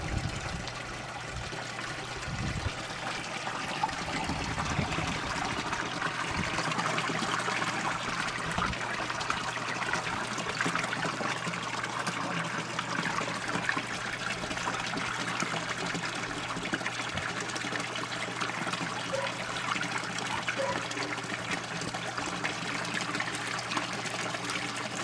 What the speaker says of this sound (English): the system evacuates the grow bed and it breaks the siphon that's filling the bottle, and the bottle begins to empty of the water